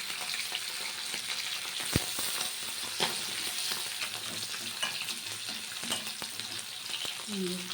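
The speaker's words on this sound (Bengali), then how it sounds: "খুব হালকা করেই ভাজবো" Hilsa fish sizzling gently in oil, a steady close crackle with occasional sharp pops and light clinks, no talking.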